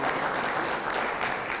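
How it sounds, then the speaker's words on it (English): An audience at a restorative justice summit gives a round of applause, a dense, steady clapping that fills the short moment with no other sound over it. "Let's give them another great round of applause for that."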